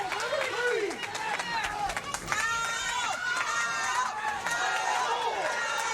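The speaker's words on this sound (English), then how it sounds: "Listen to this crowd. They are loving every second of Kyle Matthews" A pro wrestling crowd in an indoor venue keeps up a dense, continuous roar of cheers and shouts, with many voices rising and falling together.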